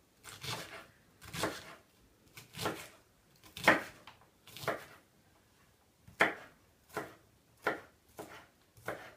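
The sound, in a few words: chopping an onion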